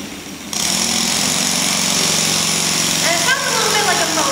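In a steam and technology museum, a small engine-driven generator of the kind that powered soldiers' radios in World War II starts up and runs with a steady, close, buzzing drone.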